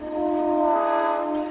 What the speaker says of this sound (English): This train is called the Polar Bear Express.